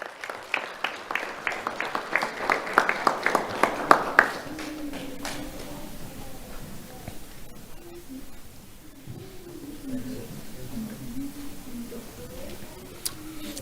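Audience applause at a sheriff's office awards ceremony, a steady run of close hand claps for a student honoree over the first four seconds, then fading into quieter room noise with faint talk.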